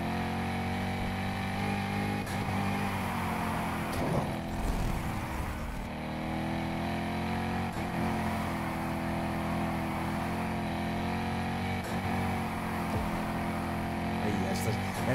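Chevrolet Corvette Grand Sport engine in Need for Speed Heat, a steady sustained drone held throughout with a brief swell near the middle, running loud and continuous while a voice talks over it.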